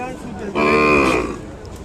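One loud, drawn-out moo from cattle at a bull and calf market in Kodada, rising over a background of murmuring people and market noise.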